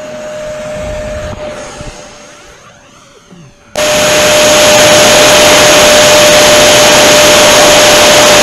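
E-flite F-15 model jet, its electric ducted-fan engine whining at a steady pitch, then surging abruptly to a loud, continuous roaring rush that holds to the end.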